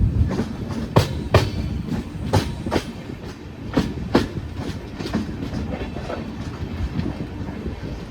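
A passenger train rolls off the main line onto the loop line into Haripad station, its wheels beating out a steady, loud clickety-clack over rail joints, with constant rumble and no voices.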